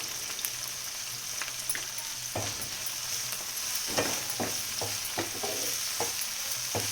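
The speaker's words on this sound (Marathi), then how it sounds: "चांगलं भाजू द्यायचं तेलात मसाला आता चांगला आपला भाजून झाला" A ground paste of coconut, coriander, ginger and garlic roasting in oil for Maharashtrian green peas curry, with a constant sizzle broken by repeated sharp spatula scrapes and knocks against the pan, close up, no talking.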